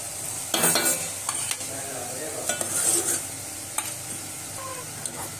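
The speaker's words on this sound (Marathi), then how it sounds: "चांगलं हलवून घ्या उकळी येतपर्यंत" Dal water for katachi amti is stirred in a hot pan, with a spoon scraping in several distinct strokes over a low bubbling hiss, each stroke a short loud swish close by, with no speech.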